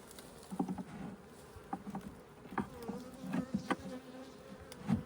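Faint buzzing of honeybees around a hive being robbed drifts in and out, with several brief louder passes as insects fly near, over a quiet background.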